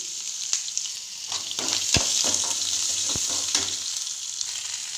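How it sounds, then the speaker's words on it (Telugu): Onions, green chilies and garlic fry in a pan with a steady, bright sizzle, broken by a few sharp utensil knocks and scrapes as they are stirred; close and continuous, with no speech. "ఉల్లిపాయలు, పచ్చిమిరపకాయలు, తెల్లగడ్డకాయలు అన్నీ వేసుకొని బాగా వేయించాలి"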